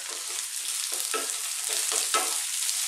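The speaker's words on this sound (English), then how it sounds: "So we're going to add our onions. And I'm going to add the carrots." Onions and carrots sizzle hard in a pan on maximum heat for vegetable fried rice, the steady frying broken by several short stirring scrapes.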